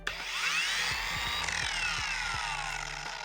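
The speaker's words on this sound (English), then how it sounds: "Another unique thing that no other polisher could do is the 25mm stroke." A DIY Detail cordless polisher with a 25mm stroke runs steadily at close range, giving a continuous motor whine with rhythmic low pulsing from the orbital motion.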